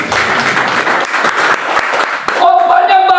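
Congregation applause at a church family worship service in Jakarta, a loud dense clatter of many hands that gives way near the end to a sustained musical tone.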